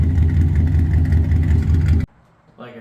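A car engine revs hard through a 2.5 inch exhaust, a loud deep rumble held for about two seconds before cutting off abruptly, followed by quieter background sound.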